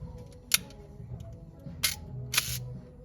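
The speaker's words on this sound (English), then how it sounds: "as long as you press the shutter, it opens up for the bulb mode" A Smena 8M 35mm film camera shutter in bulb mode is clicked open and released, giving three sharp mechanical snaps over a quiet, faintly humming background.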